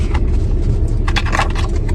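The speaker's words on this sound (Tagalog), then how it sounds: "Papainit lang ako ng makina." A taxi's engine warms up at idle with a close, steady low rumble, lightly marked by faint scrapes and rattles, with no talk.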